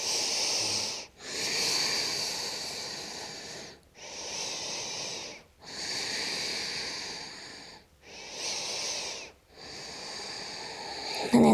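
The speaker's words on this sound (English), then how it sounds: "Taking 3 breaths." Slow, deep breaths during a hatha yoga flow: four long, steady hissing inhales and exhales, each lasting a couple of seconds and separated by short pauses, close and clear with no talk.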